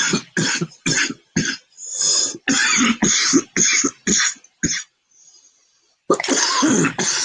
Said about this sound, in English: Please don't cough into your mic.